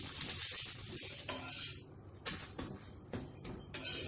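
Onion pitha frying in oil in a pan, a moderate sizzle broken by irregular scrapes and taps of a utensil against the pan; no talking.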